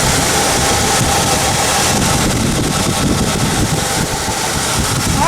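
A 1985 Ford Club Wagon XL van engine runs steadily with a loud, continuous rumble and hiss throughout, close to the microphone with some wind noise and no talking.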